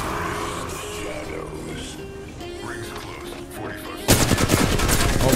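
Rapid automatic gunfire in the battle royale shooter Apex Legends bursts in loudly near the end after a stretch of game ambience and voices.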